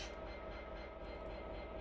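A train in a Settle to Carlisle railway simulator game slows to a stop, heard as a faint, steady low rumble of rolling carriages with no clear breaks.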